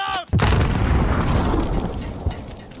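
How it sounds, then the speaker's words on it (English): A loud, close grenade blast in a first-person shooter game booms out after a brief pause, followed by a long rumbling decay; a short voice callout comes just before it. "Grenade out!"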